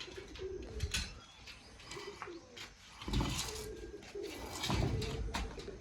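Several pigeons coo in soft, repeated throaty calls as they are released, with bursts of wing flutter and nearby movement between the calls.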